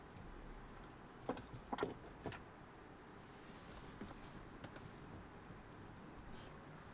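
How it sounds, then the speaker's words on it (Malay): Car keys for a 2014 Proton Iriz 1.6 Premium CVT jingle briefly as they are set down in the phone compartment, a few quick metallic clinks in a quiet cabin. "Kunci diletakkan di phone kompartmen."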